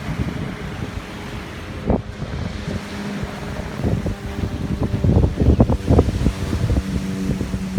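Waves washing onto a beach at the mouth of the Demerara River, heard as a continuous rushing surge with heavy wind buffeting the microphone. The wash swells louder toward the end.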